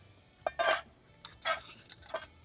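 Handling a Toaks titanium 550 UL cup and its lid, a few light metallic clinks and scrapes in short separate bursts, close and quiet, with no talk.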